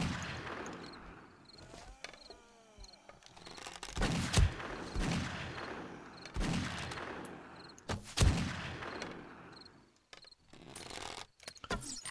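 Magnum revolver fired in the video game 7 Days to Die: several loud, sharp reports spaced a couple of seconds apart over a busy in-game background, with faint voices now and then.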